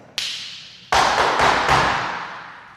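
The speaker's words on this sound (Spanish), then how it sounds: "hacer ese taconeo que acabo de hacer, empezando con pie izquierdo, empezándolo con pie derecho" Flamenco heel stamps for Sevillanas ring out sharply on a hard floor, one single strike followed by a quick rapid cluster of four resonant stamps, close and loud in a reverberant room.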